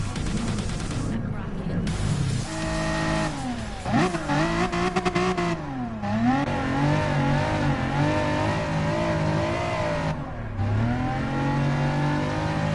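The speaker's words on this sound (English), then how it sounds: "just revving the engine as I'm checking my phone" A GT4 race car in GT Sport revs its engine repeatedly before a race start, loud and close, pitch climbing and dropping in sharp bursts with brief gaps between blips.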